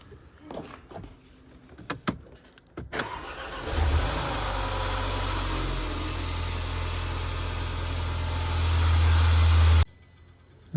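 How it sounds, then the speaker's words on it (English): A 2014 Mercedes A180 BlueEfficiency engine starts after a few clicks and handling noises, then runs at a steady, close idle for several seconds before cutting off abruptly. "Get the engine going."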